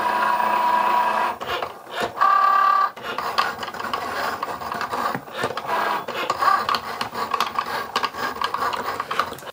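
A Cricut machine drags its blade through card, giving a close, steady mechanical whirring and scraping with brief pauses and shifts in pitch as the carriage moves; no one speaks.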